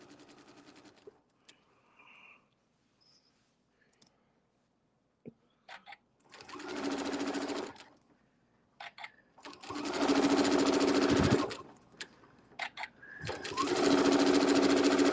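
A sewing machine stitching quilted circles with metallic-look gold thread, running in three loud whirring bursts of about one to two seconds each, separated by quiet pauses filled with faint handling clicks and taps.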